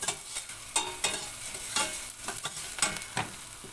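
Chopped onions sizzling in about a spoonful of vegetable oil in a pot, stirred now and then, giving a steady close frying hiss broken by several louder scraping stirs, no talk.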